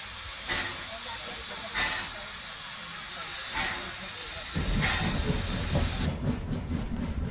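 An Adams O2 steam locomotive, Calbourne, in preservation, hisses steam steadily with rhythmic louder bursts. A deeper rumble of working machinery joins in near the end.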